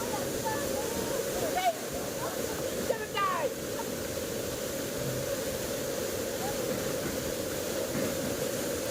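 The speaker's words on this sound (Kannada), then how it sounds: "ಬೆಟ್ಟ ನಡುವಿನ ತಪ್ಪಲಿನಲ್ಲಿ ಎಂಥ ಒಂದು ಅದ್ಭುತವಾದ ಜಲಪಾತ ಇದು ಅಲ್ಲ." Irpu waterfall among forested hills roars as a steady, broad rushing wash of water, with a few faint bird calls cutting through the constant noise.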